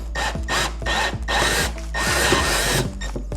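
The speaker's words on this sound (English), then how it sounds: "Mark begins by drilling out the rivets." Power drill drilling out rivets on a Scorpio kayak hull, close and loud, with its motor whine rising and falling through several short bursts.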